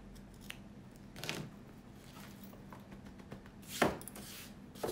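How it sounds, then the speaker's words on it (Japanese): Scissors trim fabric to the width of a zipper while a sacoche is sewn, giving two crisp, close snips a few seconds apart in a quiet room. "こっちもファスナーと同じ幅に切り揃えておきます"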